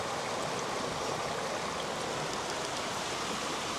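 Steady rushing babble of a small stream flowing close by, continuous and even with a bright watery hiss, no voices.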